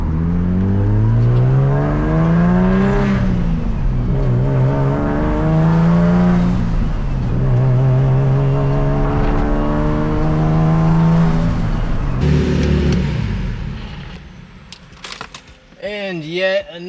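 A turbocharged Nissan Z with a swapped 2JZ engine and larger manifolds revs hard and close, its pitch climbing and falling through repeated pulls, then easing off as the sound fades out at the end.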